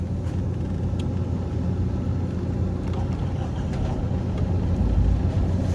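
A boat's engine, started from the helm start/stop control on a vessel with B&G displays and autopilot, catches and settles into a steady loud low rumble that holds alone for the whole stretch.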